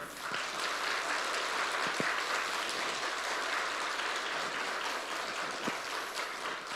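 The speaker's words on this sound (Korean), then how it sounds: "우리 여러분 인사하실 때 격려의 박수를 해주시기 바랍니다." Congregation applauding at a church thanksgiving service for the publication of a church history book: steady, even clapping from a crowd that holds for several seconds at moderate volume.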